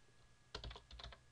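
Two quick bursts of computer keyboard typing into a PHP web form, crisp clicking keys close up with a short pause between the bursts, against a faint quiet background.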